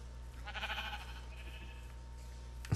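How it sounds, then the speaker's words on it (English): Black sheep in Minecraft gives a single faint bleat, a short wavering call over quiet background. "Ooh, a black sheep."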